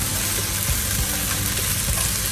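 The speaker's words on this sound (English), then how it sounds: "I'm going to saute the onions and peppers, spring onions, frozen one" Onions, peppers and frozen spring onions sautéing in butter in a pan, a dense, continuous sizzle and crackle at steady loudness, close up and without talk.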